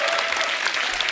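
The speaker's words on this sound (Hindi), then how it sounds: "तालियां बनती हैं" Studio audience applause at a comedy talk show, a brief burst of dense, steady clapping heard close and loud throughout.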